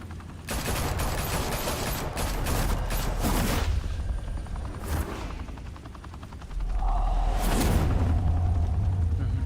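Gunfire in the video game Batman: The Telltale Series: dense, rapid bursts of shots with rumbling booms and a whooshing sweep, loud and continuous through the scene.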